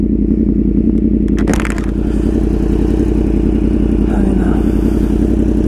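A Yamaha R1 sport motorcycle engine drones steadily at a constant low rumble during a ride, loud and close, with wind noise and a brief clatter on top.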